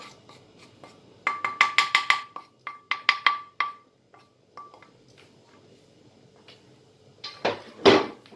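A metal spoon stirs yogurt and bulgur kırdo soup in a pot, seasoned with a mint and dried onion sauce, giving bursts of clinks and scrapes against the pot, then a pause, then a final loud clatter.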